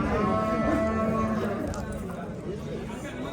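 A cow at a livestock market moos in long, loud, harmonic calls near at hand, the lowing starting strong and trailing off, set against steady market crowd noise and background voices.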